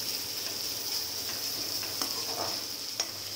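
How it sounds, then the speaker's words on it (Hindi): Sliced onions sauté in hot oil in a pan with a steady, soft sizzle and a few light clicks of a spoon stirring, fairly close and with no talking. "जैसे ही ऑयल थोड़ा गर्म हो जाता है इसमें मैंने स्लाइस अनियन डाल लेने हैं। हल्का सा इनको सौते कर लूंगी"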